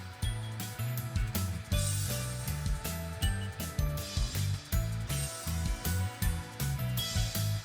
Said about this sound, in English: Put the small 10mm screws into the 2 holes to secure the dash to the firewall.